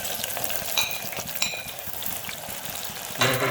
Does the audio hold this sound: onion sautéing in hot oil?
yes